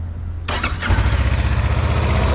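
A Honda CBR500R motorcycle engine starts with a brief starter whir, catches abruptly and settles into a loud, steady idle with a low, even pulsing throb, close by.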